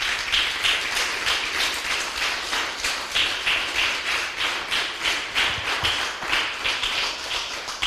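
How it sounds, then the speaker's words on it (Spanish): A church congregation claps together in a steady rhythmic beat, many hands striking in unison at a brisk even tempo, continuing for several seconds without talk. "Dale un fuerte aplauso al Señor"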